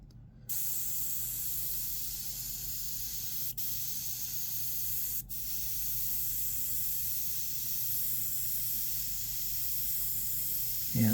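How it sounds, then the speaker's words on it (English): An airbrush sprays paint in a steady, continuous hiss across a demon skull, close and loud throughout, with two very brief breaks where the trigger is released. "this is the first time me using this airbrush, and let me tell you, I really like it already. It atomizes beautifully"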